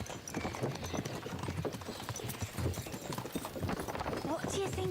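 Horse hooves clip-clop in a steady, busy rhythm on a street, with voices talking over them throughout.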